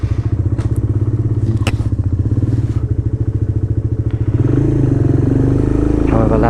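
A Suzuki VanVan RV125 motorcycle engine running loud and steady while riding, a throbbing thumping single-cylinder pulse that rises in pitch partway through, with wind buffeting the camera.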